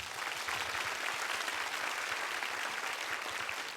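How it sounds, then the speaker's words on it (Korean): Steady concert crowd applause, dense and continuous clapping from many hands with no voices standing out, lasting throughout. "박수를 부탁드립니다"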